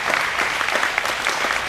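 At an evening 4-H gathering, an audience claps briskly in a dense, even burst of applause, close and fairly loud, lasting under two seconds with no talk over it.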